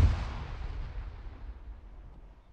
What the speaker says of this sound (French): Juste attention, grenade nord-ouest d'Alpha.